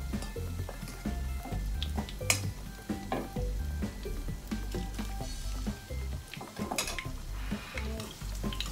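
Zucchini sizzles steadily in a hot pan, the frying hiss broken by frequent clinks and scrapes of a utensil stirring against the pan, close and continuous with no talking.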